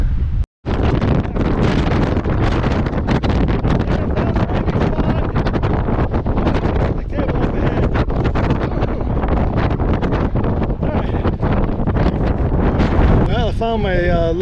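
Strong desert wind in the Mojave Desert buffets the microphone in a loud, continuous roaring rush that stays steady from start to finish, broken only by a brief dropout near the beginning.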